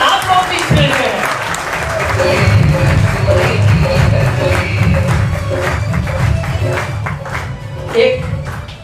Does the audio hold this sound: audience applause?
yes